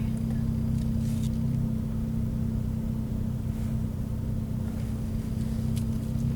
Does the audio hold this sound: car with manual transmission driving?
yes